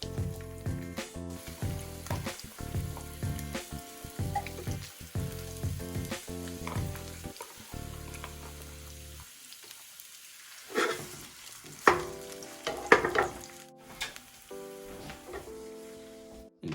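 Onions and then bacon fry in a hot pan, giving a continuous crackling sizzle with bursts of stirring and scraping. It fades into a near-silent gap before sharper, louder sizzling pops return.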